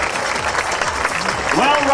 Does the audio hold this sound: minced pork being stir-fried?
no